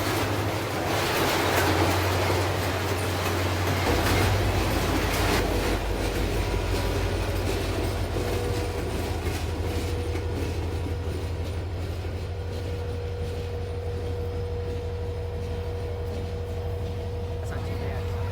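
An ex-Norfolk & Western SD40-2 diesel locomotive switching in Oakwood Yard, Detroit, rumbles nearby with a deep engine drone and clanking railcars, then slowly fades to a steadier, quieter hum; faint voices underneath.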